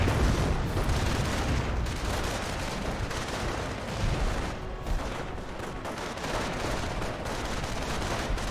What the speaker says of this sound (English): So many rockets at the moment.